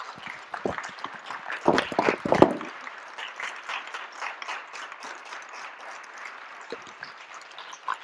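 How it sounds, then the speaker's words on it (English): A round of applause from a standing audience at an indoor community talk: a burst of louder clapping early on, then thinning to lighter, scattered claps. "Give these folks a round of applause."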